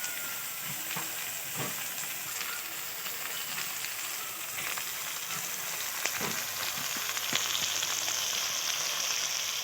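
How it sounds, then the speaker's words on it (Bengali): Chopped onion, green chili and bay leaf fry together in a pan for egg curry, giving a steady, close sizzle with scattered stirring clicks and no talking. "পেঁয়াজ কুচনো লঙ্কা কুচনো তেজপাতা দিয়ে একসঙ্গে ভেজে নিচ্ছি"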